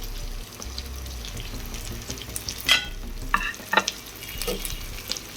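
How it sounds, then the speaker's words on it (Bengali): Potatoes and onion are stirred and fried in a pan while cooking flat beans with potato, giving a steady close sizzle broken by several sharper scraping and clattering bursts of the spoon against the pan. "আলুটাকে সুন্দর করে নাড়াচাড়া করে ভাজতে থাকবো"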